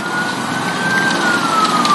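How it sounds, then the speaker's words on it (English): A siren wails steadily and loudly nearby, one continuous tone slowly gliding downward, with no voices over it. "The siren was louder now, right outside."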